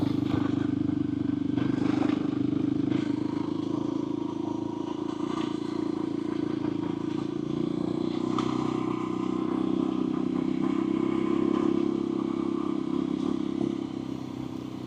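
A motorcycle climbing a loose, shaly mountain trail with its rider standing on the pegs: a steady, loud engine drone runs throughout, with clattering and scraping from stones under the tyres.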